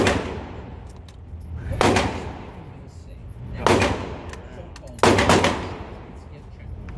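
Three loud test bursts from an Amor Lite gun, each a sharp blast spaced about two seconds apart and trailing into a fading tail, with a faint voice between them.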